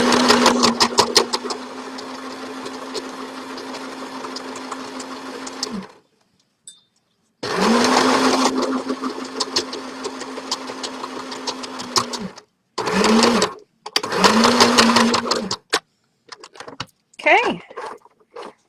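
Sewing machine stitching a thick tie-dye fabric bag, running in long steady whirring bursts with short pauses and quicker stops between them, loud and close.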